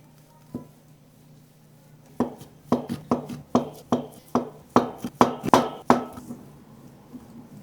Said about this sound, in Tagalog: Hiniwa ko sa tatlo yung hipon.